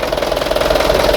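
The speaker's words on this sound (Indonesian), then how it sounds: "mesin udah ngobos kayak gini bosku" A Mitsubishi PS100 diesel engine with compression blow-by runs loud and close, a rapid even knocking chug over a low rumble, with a steady mid-pitched drone throughout.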